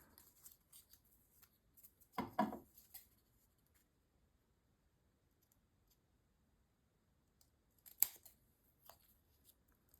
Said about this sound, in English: So I can cut that center piece.